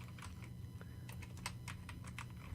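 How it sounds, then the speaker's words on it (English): Computer keyboard typing in quick, irregular bursts of close, crisp key clicks over a low background hum, with no talking. "you start typing"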